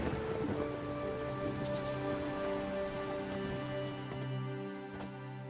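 Steady rain pours down in The Witcher 3, a dense, continuous patter on surfaces that stays fairly loud throughout, with sustained musical tones running underneath and no talking.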